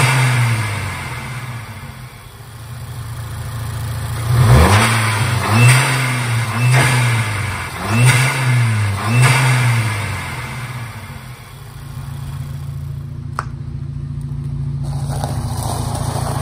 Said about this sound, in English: just to show you what having a cone air filter sounds like on your Scirocco 2-litre TSI